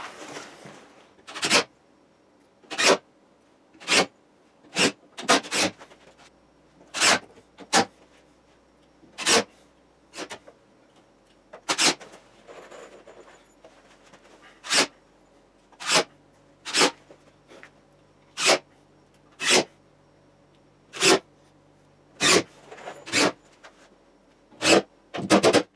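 A screw gun drives screws into the exterior wall sheeting of a chicken coop, producing about twenty short, sharp whirring bursts at irregular intervals across a quiet background with no talking.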